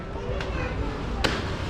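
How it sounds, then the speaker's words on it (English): Orca named Malia slapping a pectoral fin on the pool surface at SeaWorld Orlando's Orca Encounter show; two sharp broadband splashy smacks ring out over a noisy crowd ambience. "Now Malia's going to try another pec slap right here."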